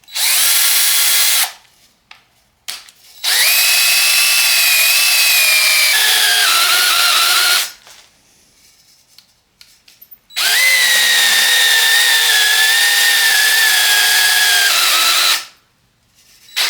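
A drill-driven hone works inside engine cylinders, a loud high-pitched whine in long bursts of several seconds, separated by short pauses with faint scraping.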